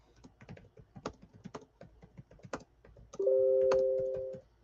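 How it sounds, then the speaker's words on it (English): Computer keyboard typing in a quick, irregular run of sharp keystrokes, close and alone, then a steady electronic tone takes over near the end. "Speaking of keyboard strokes, as we just heard"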